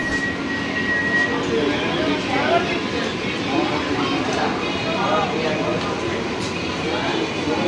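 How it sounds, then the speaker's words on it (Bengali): An AC local train rolls into Dum Dum Junction on a rainy day, a steady close rumble of wheels and carriage noise filling the whole stretch with faint rattles and occasional squeaks, heard from inside the coach. "বর্তমানে আমাদের ট্রেন দমদম ক্যান্টনমেন্ট ছেড়ে দমদম জংশনে ঢুকলো।"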